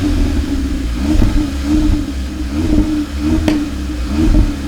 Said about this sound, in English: that exhaust is surprisingly fruity for a mild hot hatch like this one